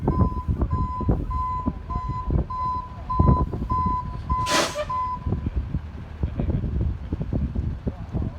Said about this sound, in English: Here's the tow truck, guys.